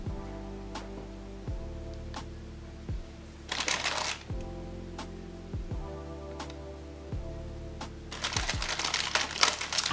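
Gift paper being carefully unwrapped from a parcel of mail sent from Turkey, with bursts of crinkling and rustling close up over a steady low hum, alone without talk.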